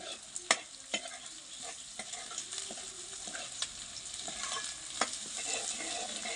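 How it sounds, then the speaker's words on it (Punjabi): Potatoes fry in a pan, a steady sizzle broken by repeated sharp scrapes and clacks of a spatula stirring them, close and moderately loud, with no voices. "ਇਹਨੂੰ ਉਨੀ ਦੇਰ ਤੱਕ ਪਕਾਵਾਂਗੇ ਜਿੰਨੀ ਦੇਰ ਤੱਕ ਆਪਣੇ ਆਲੂ ਚੰਗੀ ਤਰ੍ਹਾਂ ਫਰਾਈ ਨਹੀਂ ਹੋ ਜਾਂਦੇ"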